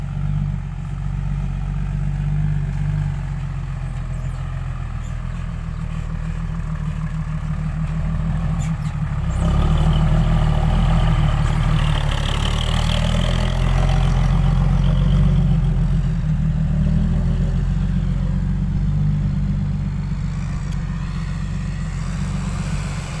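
A heavy tractor engine runs continuously on a sticky muddy track, a deep rumbling drone that swells louder midway as it works harder, with no talking.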